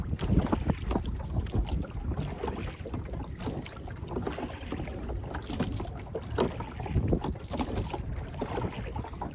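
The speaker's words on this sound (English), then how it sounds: "It's amazing how quickly the wind takes you." Steady wind buffets a small rowing boat drifting off course near Gibraltar, a continuous rough low rumble of gusts and microphone wind noise with faint water movement, no voices.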